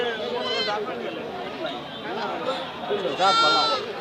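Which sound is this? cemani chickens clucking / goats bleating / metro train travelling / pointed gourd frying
goats bleating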